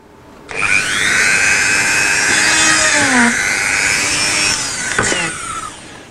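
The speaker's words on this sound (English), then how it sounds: "We accidentally drilled a hole" A power drill whines steadily for several seconds as it bores through material, close and loud, its pitch dipping slightly before it winds down.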